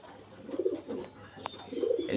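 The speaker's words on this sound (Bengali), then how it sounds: "এখন দেখছেন একটি আফসান গ্রিজেলের নর" A male Afsan grizzle pigeon cooing softly at close range, with several low, rolling coos repeating in a slow rhythm against a faint steady background hum.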